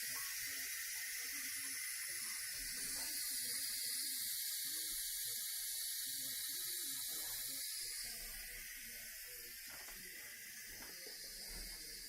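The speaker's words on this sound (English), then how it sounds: "we're just going to do a quick release now." Steady broadband hiss of steam venting from an Instant Pot on quick release while cooking chicken fettuccine alfredo, continuous and fairly loud, easing slightly toward the end.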